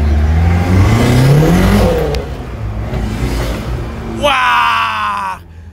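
BMW E30 engine revving hard while driving during a night drift in Sochi: a loud rising roar that climbs then drops back, followed by a brief high whine near the end, with a voice speaking faintly underneath.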